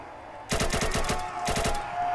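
Two short bursts of rapid automatic gunfire from a poorly made gun in the Roblox video game, each a quick string of sharp cracks, loud and close, separated by a brief pause and followed by a lingering tone.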